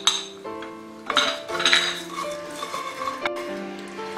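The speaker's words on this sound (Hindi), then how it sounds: "आइए अब हम हमारे सारे खड़े मसाले हैं उसे हल्का सा भून लेते हैं।" Whole spices are dry-roasted in a pan for Kashmiri dum aloo, stirred with a utensil that clinks and scrapes against the metal in quick close bursts, with no talking.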